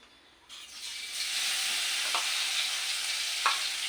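Vegetables hit a hot pan in a home kitchen and burst into a loud, steady sizzle. Stirring scrapes faintly through the frying.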